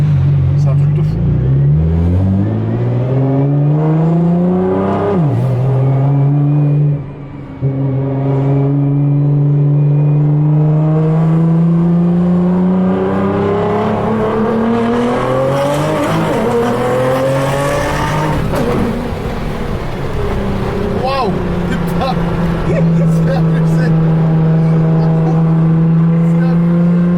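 A 1500 hp Nissan GT-R engine revs hard past 5000 rpm, its pitch climbing in long sweeps with gear changes and brief drops, loud and close throughout while people talk excitedly over it.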